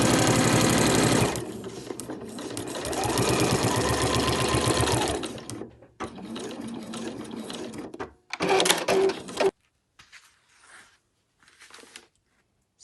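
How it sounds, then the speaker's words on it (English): Sewing machine stitching back and forth over an overlocker cover, a steady close mechanical whir in runs that pause and restart, with brief stops and quieter handling near the end. "So do a little back stitch, and then we're going to come all the way back up."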